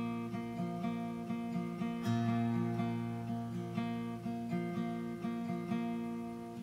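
A guitar chord picked string by string, the notes ringing together in a steady repeating pattern, clean and close with no voices.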